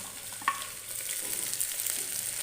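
Pumpkin, potato and taro cubes sizzle steadily in a pan over a medium flame, a close, continuous crackle with a brief clink near the start and no talk.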